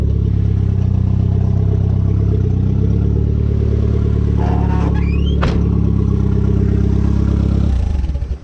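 A Conquest car engine idles loudly and close, a steady low rumble with a brief clatter midway, before cutting off near the end.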